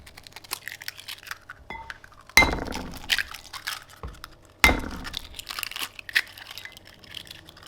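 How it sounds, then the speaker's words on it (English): Eggs cracked one at a time into a wide mixing bowl for a Monte Cristo sandwich batter, two sharp taps with shell clinks and small glassy knocks in between, close and clear with no talking. "we'll get a bowl into which we're going to crack some eggs"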